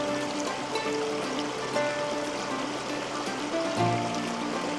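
Water flows steadily in a quiet stream at a campsite, a soft continuous babble with faint trickles and a few brief tonal sounds nearby.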